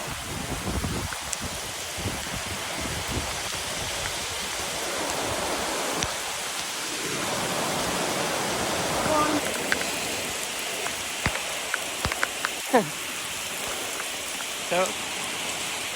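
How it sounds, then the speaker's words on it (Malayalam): Heavy rain pours steadily and close by, a dense hiss with scattered drips and taps throughout. "നല്ല മഴ"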